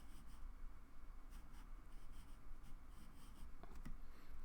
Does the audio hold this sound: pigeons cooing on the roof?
no